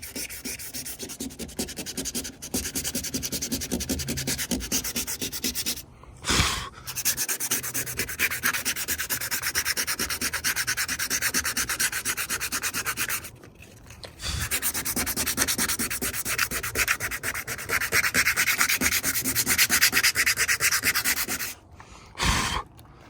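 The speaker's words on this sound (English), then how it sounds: "So we're going to go ahead and sand this whole thing right here." Close, steady sanding of Bondo body filler on a car body during bodywork on an SS clone, continuous rubbing passes broken by a few short pauses, with no talking.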